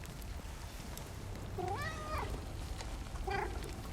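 A cat in the video game No Rest for the Wicked gives two meows, a longer drawn-out one followed by a shorter one, clear and moderately close over a low background hum.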